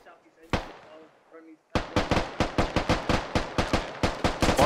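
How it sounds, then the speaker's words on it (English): Gunfire in a tactical military shooter game, a single sharp shot followed by a rapid string of loud, evenly spaced bursts close by, with faint speech in the background. "he's attracted to the sound of the gunfire"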